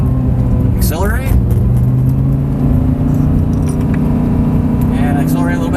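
An Audi R8 engine hums steadily in a low drone while the car accelerates, close and loud inside the cabin, with a voice talking over it and a couple of brief clicks.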